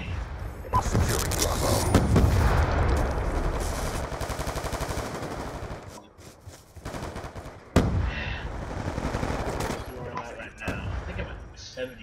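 Gunfire in a first-person shooter, a hardcore domination match, heard as loud sustained automatic bursts with a short pause and then renewed firing, while a player talks over the shooting.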